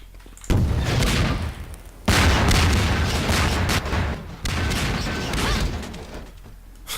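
Grenade explosions and gunfire in a video game arrive as several loud, broadband booming bursts. One blast stands alone near the start, then longer rumbling stretches of explosive noise follow.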